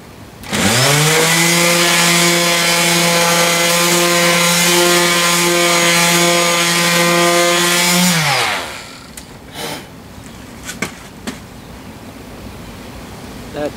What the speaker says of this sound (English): I have to see exactly where it's hitting, and then I can hit it with the sander.